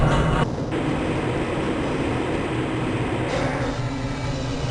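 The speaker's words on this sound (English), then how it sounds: "This train is inbound from the Area 8 topside dormitories to the Central Transit Hub in Area 9." Black Mesa transit tram from Half-Life: Blue Shift, a steady, continuous rumble of a rail car rolling along its track, fairly loud and close, with a brief dip near the start and no talking over it.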